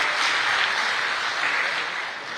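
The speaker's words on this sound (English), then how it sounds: "A huge round of applause once again" Steady, dense applause from a large audience at a freight forwarders' convention, an even wash of many hands clapping throughout at fairly strong level.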